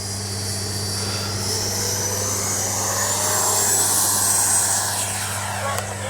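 A Freewing 80mm Avanti S V2 RC jet takes off with a steady, loud whining ducted-fan roar that swells slightly, holding throughout with outdoor hum underneath.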